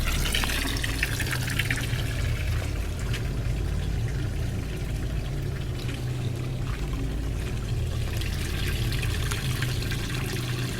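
Water runs steadily at an outdoor spot in a forest, a continuous splashing trickle that holds even and fairly loud for the whole stretch, with no talking.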